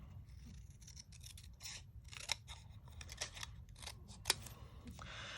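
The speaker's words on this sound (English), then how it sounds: "So what you want to do is you want to cut the sections apart first." Scissors snip through cardstock, cutting printed sections apart in quick, close, crisp bursts with a few sharper clicks, all against a faint low hum.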